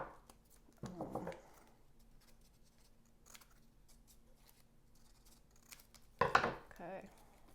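Scissors snip through paper while a shape is cut out, two short bursts of quick close cuts separated by a long quiet pause, with faint background noise between them.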